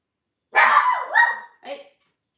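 A dog barks three times in a house, two long, loud, strained barks followed by a shorter, softer one, with no other sound around them.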